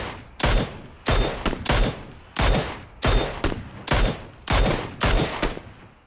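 Rapid bursts of gunfire in the video game PUBG, about seven loud sharp volleys spaced roughly evenly across the stretch, each a dense crackling burst with short gaps between.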